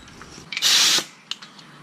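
An angle grinder cleaning the rust off the brake rotor hub of a Chrysler Concorde: a short, loud, harsh whir of about half a second, bracketed by clicks and light handling noises in a workshop.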